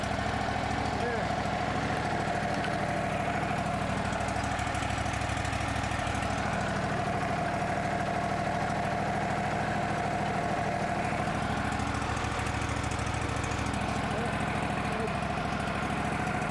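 A Woodmizer LT15 portable sawmill's engine runs at a steady, even idle throughout, a continuous mid-pitched drone with a slight hum and no clear changes in speed, with no speech over it.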